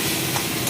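A brief sizzle and stir of fish head curry with potatoes and pointed gourd cooking in a pan, a steady close hiss with no talking.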